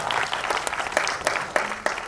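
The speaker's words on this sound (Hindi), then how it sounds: "तालियां।" An audience applauds at a music album launch event, a short burst of steady clapping with a few sharper individual claps standing out near the end.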